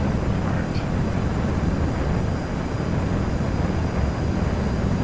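Steady broadband roar of an SSTO spaceplane's Rapier engine in Kerbal Space Program, a continuous loud rushing drone holding level throughout without pauses.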